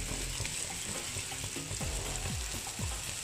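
Pre-fried beef mince sizzling in a pan of fiery, very spicy chili sauce, a steady close frying hiss with soft stirring scrapes and clinks, no voices.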